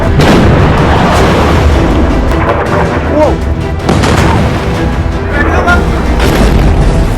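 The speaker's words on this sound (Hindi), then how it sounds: "ईरान की मिसाइल जहां चाह वहां राह बनाकर इजराइल पर फट रही है।" An Iranian missile strike in Israel, apparently in Tel Aviv, sets off a continuous loud roar of blasts and rumbling booms. The distant and near impacts blend into a dense, unbroken wall of noise.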